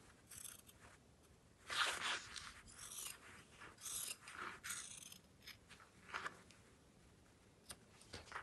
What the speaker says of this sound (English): So trim away, being careful not to cut your stitches.